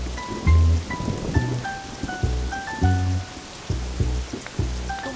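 Steady heavy rain pours down, with drops drumming on a surface and a few low rumbles underneath; no one speaks.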